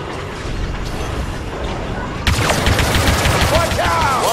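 Blaster gunfire in Star Wars Battlefront II, a low rumbling battle ambience that suddenly erupts into loud rapid bursts of shots with whooshing energy effects, and a voice briefly speaking.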